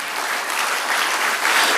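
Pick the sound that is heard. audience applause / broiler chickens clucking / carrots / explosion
audience applause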